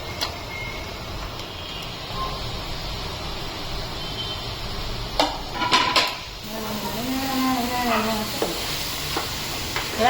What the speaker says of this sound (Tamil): நம்ம இஞ்சி பூண்டு பேஸ்ட் போட்டுக்கலாம் நல்லா வதங்கிடுச்சு வெங்காயம்